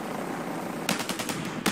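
Bushmaster 30mm cannon firing in War Thunder, silent for the first half, then a rapid burst of loud, sharp repeated shots near the end.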